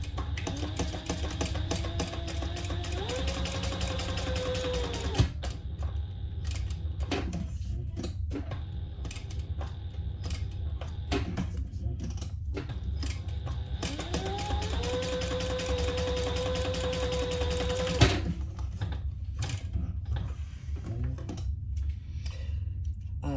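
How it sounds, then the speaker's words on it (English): A sewing machine stitches down each side of a handmade holiday gift piece in two long runs of fast, steady mechanical whirring, close and clear, with a short pause between them. "Sew down each side."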